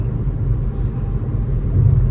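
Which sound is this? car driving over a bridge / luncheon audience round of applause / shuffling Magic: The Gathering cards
car driving over a bridge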